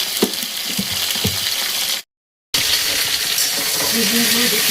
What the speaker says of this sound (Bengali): বেগুনগুলো দেখুন ভাজা হচ্ছে,